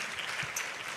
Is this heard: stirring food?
no